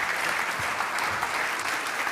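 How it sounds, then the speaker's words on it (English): A conference audience claps warmly in a brief, steady burst of applause that stays at an even level throughout, with no voices standing out. "A very warm round of applause."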